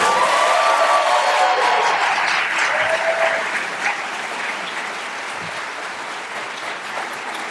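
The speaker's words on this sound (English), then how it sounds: "You can applaud." Loud applause from an audience at the Ames Moot Court Competition final round, greeting the announcement of best briefs, dense and steady before easing to a lighter patter.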